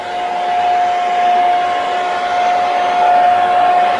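A heat gun blows a steady, loud rush of hot air close against fine line tape, a constant whooshing drone with a thin whine riding on top, alone without talk.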